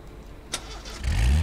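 A car engine cranks and catches in a racing video game, a short click followed by a low rumbling rise that settles into a steady idle, fairly loud with no talking.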